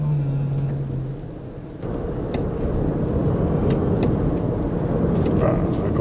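A heavy Mercedes-Benz EQA electric car of about 1,800 kg pulls away as the pedal is pressed, giving a low steady rumble of motion and road noise from inside the cabin.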